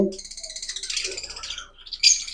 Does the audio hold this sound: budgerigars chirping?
yes